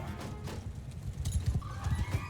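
Horse from the Mount & Blade II Bannerlord video game, its hooves clip-clopping steadily with a whinny partway through, heard close and fairly loud over a low rumble of background game sound.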